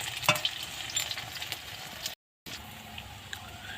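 Bottle gourd leaf fritters frying in hot oil, a bright crackling sizzle with a few sharp pops, broken by a brief gap before the frying resumes more quietly.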